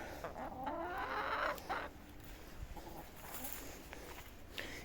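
Chickens in a yard cluck softly on a cold day, scattered short calls at moderate distance with faint background noise.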